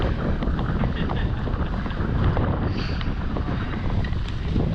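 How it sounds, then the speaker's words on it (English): Wind buffets an unshielded microphone outdoors on a damp bike trail on the Great Allegheny Passage, a constant loud roaring rumble with gusty low-end thumps and no clear voice. "I don't know if you can hear this because it's quite windy and we do not have the windscreen on Greasy Lou today"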